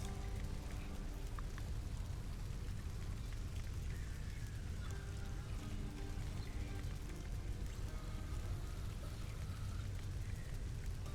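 Steady, even rain in the video game Hades, hissing and pattering throughout, with no break in the constant wash of drops.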